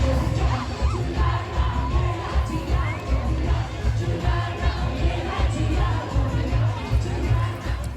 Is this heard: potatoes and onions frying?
no